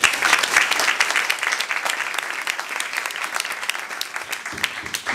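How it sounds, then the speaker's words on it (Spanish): Audience applause at a live music show, steady and full throughout with a faint voice or two underneath, dense clapping from a seated crowd. "Un aplauso, por favor."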